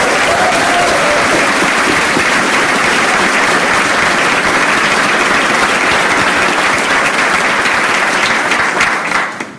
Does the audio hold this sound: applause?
yes